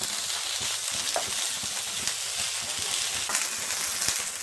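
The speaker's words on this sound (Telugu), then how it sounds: "బెండకాయ ముక్కలను వేసుకొని వేయించుకుందాం" Okra (lady finger) pieces fry in a hot pan, giving a steady, loud, dense sizzle throughout with faint stirring clicks and scrapes underneath. No voices.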